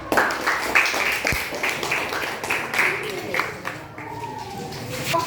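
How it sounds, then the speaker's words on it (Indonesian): A classroom audience claps together in a burst of applause, a rapid patter of many hands close by that gradually thins out, with a voice speaking over it. "Baik, beri tepuk tangan"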